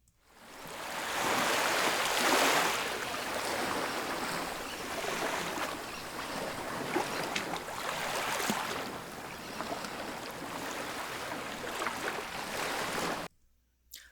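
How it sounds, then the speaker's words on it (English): Ocean waves recorded at a beach: a broad, washing surf that swells soon after the start and rolls on in slower surges before cutting off abruptly near the end. "I have this beautiful recording of the beach."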